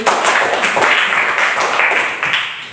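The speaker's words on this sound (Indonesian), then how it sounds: "Oke, tepuk tangan dulu." Schoolchildren in a classroom break into applause on cue, a loud, busy clatter of many hands with a few sharper claps, fading slightly toward the end.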